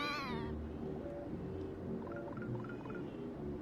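A cartoon cat in the Pac-Man 2 video game lets out a rising, wavering meow at the start, followed by game music and sound effects.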